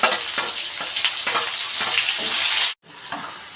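Tomatoes fry loudly in a pan for avarekalu uppittu, giving a dense close sizzle with rhythmic stirring pulses. It cuts out briefly and then resumes, with no talking.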